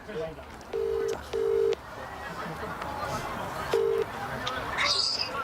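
A telephone call's ringing tone plays over a loudspeaker, with three short, level tone bursts at a steady pitch against a busy room background.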